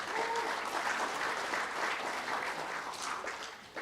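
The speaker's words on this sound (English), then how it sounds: "So how about give yourself a very big round of applause" Audience at an Open University public lecture on visionary leadership applauds steadily, a dense, sustained round of clapping from a seated crowd, with faint voices and a brief tonal murmur under it.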